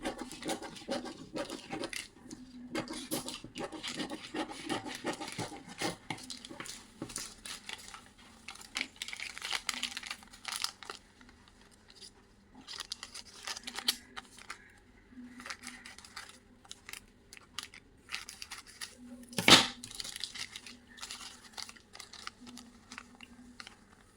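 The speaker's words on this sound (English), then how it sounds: "Cut it into small pieces using the scissors." Scissors snip through a thin sheet of dried homemade paper soap, producing a long series of small crisp cutting and rustling clicks, close up, with quieter pauses and one sharper snap near the end.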